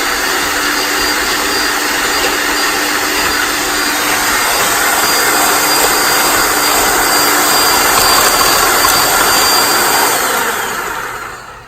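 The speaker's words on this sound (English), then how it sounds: "you beat them with a mixer until they're thick" An electric mixer beats egg yolks for a ground pecan pie, making a loud, steady whirring drone close by that runs nearly unbroken for about ten seconds before fading out.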